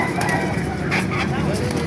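Chickens cluck and squawk close by amid a noisy outdoor crowd at a chicken market in Baliuag, Bulacan, Philippines, with voices chattering in the background.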